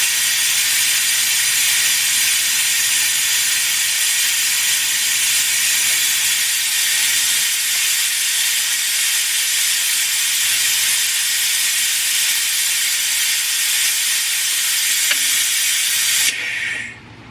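A Harbor Freight one-man brake bleeder running on compressed air gives a loud, steady, close hiss that holds for about sixteen seconds, then cuts off abruptly as the air is shut off.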